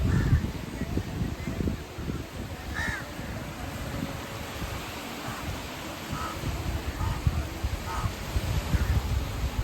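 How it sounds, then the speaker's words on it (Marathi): Crows caw near the sea at Gorai beach by Ghodbunder Fort, scattered single calls at moderate distance over a constant rush of wind and surf. "इथे पक्ष्यांचा आता सध्या तरी कावळ्याचाच आवाज येत आहे"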